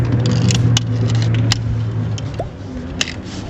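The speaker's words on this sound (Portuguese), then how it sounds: "Deixa eu só girar a chave aqui pra não travar o volante." A Fiat Palio G1 idles with a low engine hum that cuts out as the ignition key turns, followed by faint clicks, scrapes and a sharp tick from the steering column, close up.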